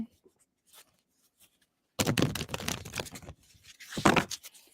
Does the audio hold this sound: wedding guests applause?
no